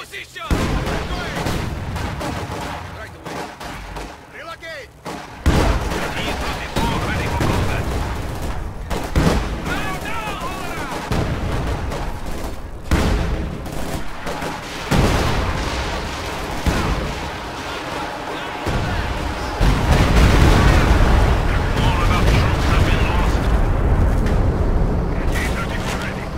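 Machine gun bursts and booming artillery fire rumble through a Company of Heroes 2 battle, sustained and dense over nearly half a minute, with unit voice lines mixed in.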